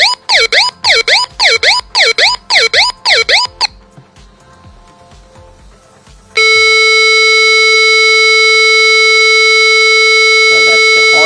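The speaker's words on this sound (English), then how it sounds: "So that's the horn." After a few quick electronic siren whoops from a robotics kit, a brief near-silence, then a loud, steady electronic horn tone holds unbroken to the end.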